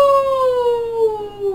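A human voice mimics a wolf howl with one loud, sustained, clear tone that slides slowly downward, held alone for over a second.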